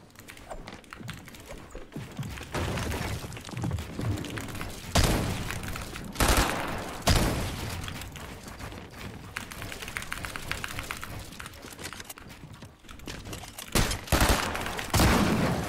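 Gunfire in a Fortnite-style video game, with several sharp bursts and loud cracks scattered among a busy clatter of clicks and game noise, the shots coming in uneven clusters.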